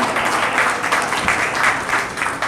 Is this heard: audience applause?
yes